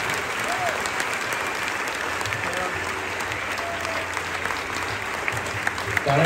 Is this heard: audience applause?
yes